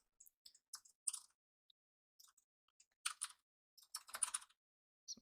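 Typing on a computer keyboard while using Blender, scattered clusters of crisp key clicks with short gaps, close and quiet, no talking.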